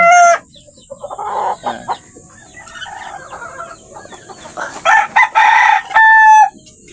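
Pet chickens clucking in scattered calls, with a rooster crowing near the end, set around a nest full of eggs.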